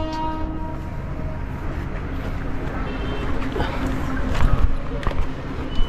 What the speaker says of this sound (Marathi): चला आता माणगावला पण सुटली ट्रेन आता.